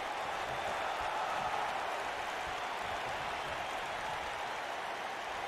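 Wrestling arena crowd roars and applauds steadily for Big E Langston and Oney Lorcan, a dense, continuous wash of cheering and clapping with no clear breaks.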